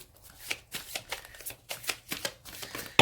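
A deck of tarot cards being shuffled up close, a run of crisp riffling bursts that repeat in an uneven rhythm, with a louder snap at the end and no voices.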